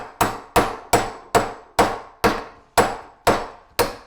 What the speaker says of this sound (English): You can see the bearing's crooked, but we're going to tap it